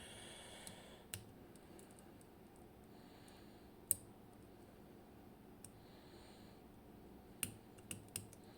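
Faint, sparse metallic clicks from pins inside a Nemef NF3 lock being picked, a handful of small isolated ticks spaced irregularly over a quiet background hiss.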